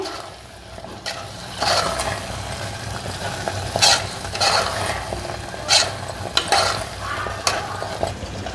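Jaggery paramannam with cardamom, ghee-fried cashews and raisins being stirred in a pot, a spoon scraping in slow, spaced strokes over a low, steady background hum.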